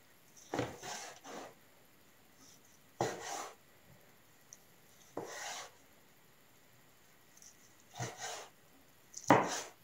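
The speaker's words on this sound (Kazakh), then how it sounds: "Енді майдалап турап аламыз." Boiled meat is cut finely on a board with a knife in several separate, close strokes, each a short rasping chop followed by quieter scraping, spaced a second or two apart.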